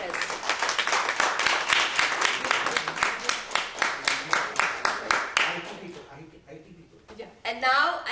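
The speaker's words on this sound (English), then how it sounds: "let's have a huge, huge round of applause, ladies and gentlemen, for all our staff at MAFS" An audience gives staff at a virtual fundraiser a warm round of applause, sustained clapping that rises and fades over several seconds before stopping, followed by brief quiet and a voice.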